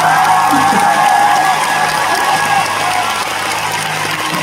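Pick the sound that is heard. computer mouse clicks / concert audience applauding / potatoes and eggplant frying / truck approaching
concert audience applauding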